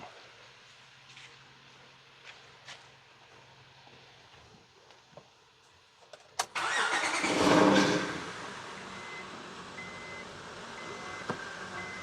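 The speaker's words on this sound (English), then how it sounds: "I can hear a little power steering noise." After several quiet seconds, a car engine with a power steering fault cranks and fires up, then settles into a steady idle with a faint power steering whine underneath.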